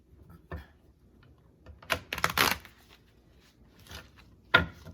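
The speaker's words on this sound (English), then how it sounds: "Best shuffle ever." Tarot cards are shuffled in several short riffling bursts, crisp and close, separated by quiet pauses.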